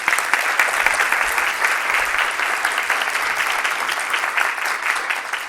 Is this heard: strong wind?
no